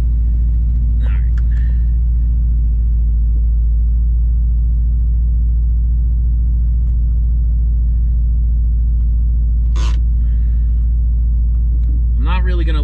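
Subaru STI engine idling steadily while warming up just outside a garage, a loud continuous low rumble throughout with a few faint incidental noises on top.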